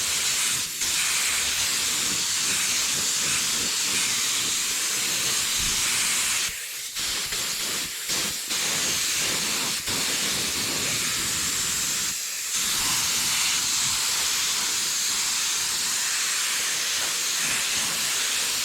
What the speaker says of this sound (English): I'm going to just start laying the color down.